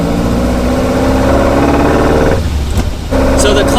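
The engine of a 55-year-old Alfa Romeo Giulia SS 1600 drones loud and close from inside the car, a steady mid-pitched hum that briefly dips as if shifting, then resumes.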